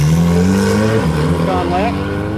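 Honda S2000 sports car pulling away on a race track, a close, loud engine note rising through the revs with a gear change midway, with voices talking over it.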